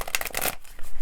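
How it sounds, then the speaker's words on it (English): A deck of tarot cards is shuffled close up in quick riffling bursts for about half a second, followed by quieter low rustling and handling noise. "just getting through the shuffling"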